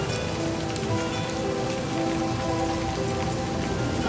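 Steady, dense rainfall patters on surfaces in the video game Livber: Smoke and Mirrors, a continuous even wash of drops with no pauses, fairly close and moderately loud.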